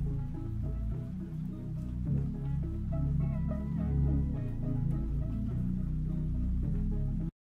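A warm, darker synth arrangement processed with a Neutron dark bass preset holds steady chords over a heavy low end for several seconds, smooth and unbroken.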